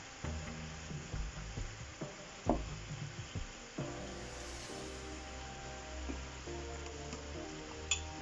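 A utensil stirs honey and sugar as they melt in a pan, giving soft scraping and light sizzling with occasional knocks against the pot, close and fairly quiet.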